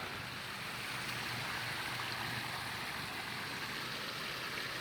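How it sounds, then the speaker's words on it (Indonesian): Fast-flowing water in the Tanggul irrigation canal at Satria Mekar village, overflowing and pouring like a small waterfall, a constant loud broadband rush with no voices. "Kali irigasi Tanggul Desa Satria Mekar. Airnya deras banget ini ya."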